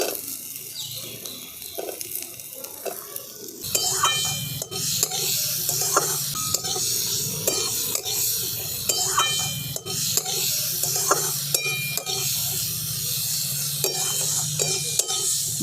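Spice paste is stirred together with fried jackfruit seeds in a pan, with repeated close scraping strokes over a low, steady sizzle.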